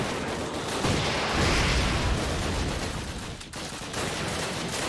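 Video game battlefield noise, a continuous loud rumble with rapid bursts of gunfire and distant artillery-like booms, dense and unbroken across the span, with no clear tank engine standing out.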